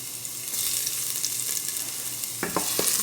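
Garlic hitting hot olive oil in a pot gives a steady, moderately loud sizzle with stirring noises and a few sharp scrapes near the end.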